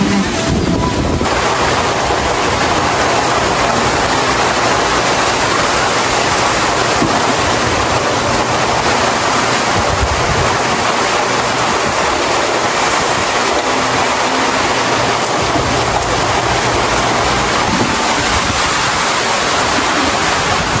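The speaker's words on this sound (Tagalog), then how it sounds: "Malakas ang ulan at hangin." Heavy rain and strong wind pour down in a dense, unbroken roar that fills the whole stretch at high volume, with gusts buffeting the microphone throughout.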